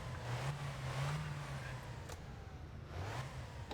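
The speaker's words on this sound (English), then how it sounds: "Crank her. All right. Give her a few revs." A car engine in the driving game My Winter Car, started on a cold morning and revved a few times, its steady low drone rising and falling in pitch, loud and close with light talk over it.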